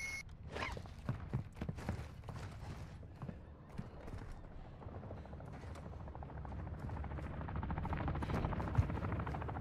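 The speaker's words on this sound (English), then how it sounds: "the enemy attack helo is moving in your direction" Enemy attack helicopter from Call of Duty DMZ drawing closer, a steady low rotor thrum that swells gradually in loudness across the clip, with scattered clicks and faint game noises on top.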